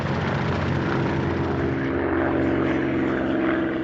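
A propeller aircraft drones steadily and loudly through the whole stretch, a continuous engine roar with no talking, like a wartime documentary sound effect of planes crossing the Atlantic.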